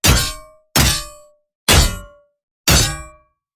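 Four layered metallic blade clangs from an aggressive cold-weapon sound design, each a loud, bright ringing strike that decays over about half a second, evenly spaced with short silences between, close and alone.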